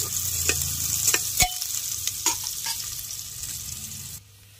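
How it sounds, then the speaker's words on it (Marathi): Onions sautéing in hot oil for a village-style mutton curry sizzle loudly and close, while a utensil clacks and scrapes against the pan several times as they are stirred, before the sizzle abruptly drops away near the end. "कांदा टाकायचा आहे मित्रांनो. तो चांगल्या प्रकारे परतून घ्यायचा आहे मित्रांनो."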